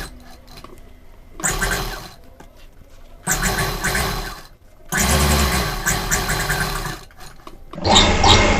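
A sewing machine stitches along the edge of a high-neck blouse collar in four separate bursts of steady, fast motor whirring with short pauses between them, close and loud.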